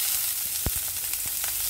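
Cabbage sautéing in hot oil with garlic, a dense, bright sizzle throughout with a few soft knocks from stirring.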